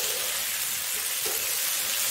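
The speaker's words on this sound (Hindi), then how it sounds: "तो अब हम लोग डाल देंगे ये अपना बैंगन, अब इसको आपस में मिक्स कर देंगे" Eggplant sizzles steadily in a hot pan as it is stirred and mixed, a dense, even frying hiss that continues without pause throughout.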